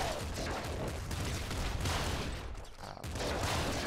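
Dense, continuous barrage of booming blasts and gunfire-like bursts from the video game Nuclear Throne, loud and steady throughout with a brief dip near the end.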